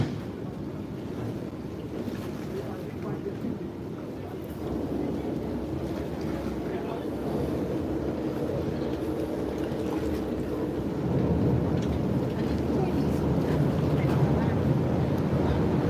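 Wind buffets the microphone over lapping water and waves by a boat landing, with faint voices in the background.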